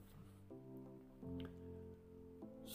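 Vinegar is poured into a cooking pan while braising pork, making a faint, close liquid trickle with soft dripping and squishy splashes in short bursts.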